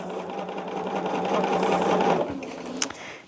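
A sewing machine stitches a quilt in a continuous close, steady whirring run that slows and stops near the end, followed by a brief click.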